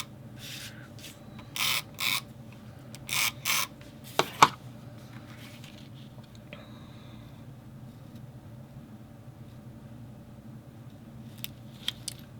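Several quick scissor snips trimming paper for a Disney travel album, a handful of short crisp cuts early on, then quiet handling with a sharp tap.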